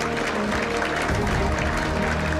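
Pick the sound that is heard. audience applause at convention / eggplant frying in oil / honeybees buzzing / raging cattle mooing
audience applause at convention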